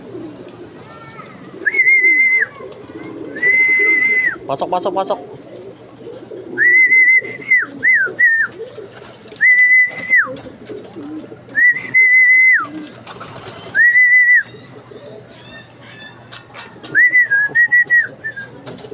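Racing pigeons, tracked on their return from a 90 km race in Tiaong, Quezon, give repeated whistling coos in short bursts near the microphone, while someone speaks briefly and background noise continues throughout.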